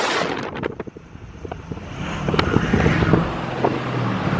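A diesel truck drives along with its turbo spooling, a rising whistle over engine rumble and wind buffeting, fairly loud and close throughout.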